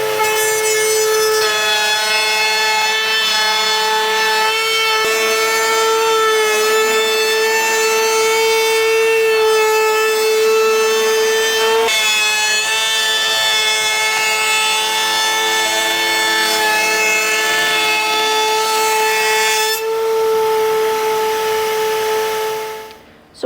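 A router cutter rounds over the edge of a long length of ash picture-frame wood, a loud, steady high-pitched whine with strong harmonics running continuously for over twenty seconds before cutting off at the end.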